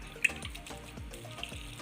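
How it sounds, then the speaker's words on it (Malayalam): Water is poured into a pot of taro leaf curry seasoned with turmeric and chili powder. It makes a brief, close splashing trickle with a soft burble. "കുറച്ച് വെള്ളം ഒഴിച്ചു കൊടുക്കാം"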